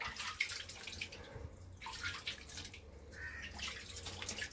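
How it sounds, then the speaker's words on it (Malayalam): Water drawn from a well and poured into a container, a steady, faint splashing and trickling pour that keeps going without pause. "ഇച്ചിരി വെള്ളം കോരി നമുക്ക് ഇതിനകത്ത് ഇങ്ങനെ ഒഴിക്കാം"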